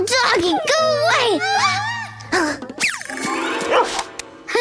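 A cartoon dog yips and barks in short excited bursts between high animated voices of children talking, close and lively.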